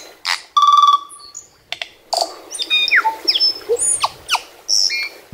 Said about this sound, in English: that was a beautiful tui bird